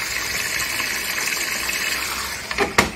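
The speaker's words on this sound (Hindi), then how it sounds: "मशीन में जो है पानी ऐड किया जा रहा है" Water gushing steadily into a Motorola front-load washing machine, a continuous rushing flow with a couple of brief clunks near the end.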